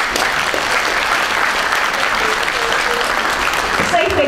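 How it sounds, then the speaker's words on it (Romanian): At a 2019 Danubius graduation ceremony, an audience claps for the graduates in a loud, sustained wash of applause, with a faint voice emerging near the end. "vă rog să-i aplaudăm încă o dată"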